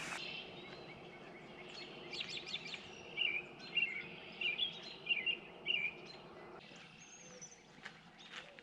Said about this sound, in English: the birds are a little upset that I'm sitting out here